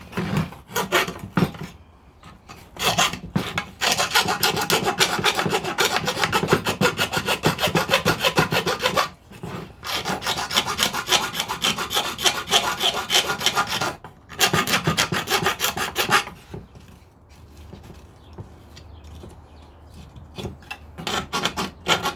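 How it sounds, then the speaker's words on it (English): Filing a wooden door by hand, long rhythmic rasping strokes in loud, close bursts separated by brief pauses, fading to lighter scraping toward the end. "Let's get this door filed down so it's soft."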